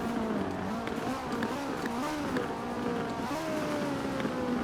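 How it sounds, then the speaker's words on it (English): Engine of a 2JZ-swapped GT 4586 in Forza Horizon 4, rising and falling in pitch as it climbs through the gears, a steady droning rev with brief dips at each shift, moderately loud. "Go through the gears."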